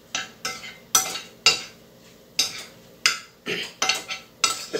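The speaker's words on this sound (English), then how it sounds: "just mix this in until you get like a nice little dough here" Zucchini kofta dough, a mix of zucchini and flour, being stirred in a bowl, giving a series of about ten bright scraping strokes in an irregular rhythm, close and clear with no talk.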